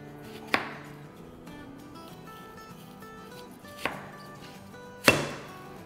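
A knife cuts through peeled onions to slice them into rings, three distinct sharp chops against a board spaced a few seconds apart, close and clear over quiet room tone.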